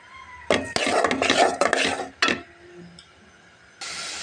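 Shrimp and spice paste of onion paste, salt and chilli stir-fried in oil in a pan, heard as repeated scraping and clattering of a utensil against the pan in bursts, with quiet gaps and a faint sizzle underneath.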